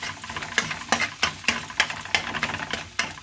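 A spatula scrapes and stirs an egg being scrambled in a pan, giving sharp, evenly spaced strokes about three times a second over a soft, constant sizzle.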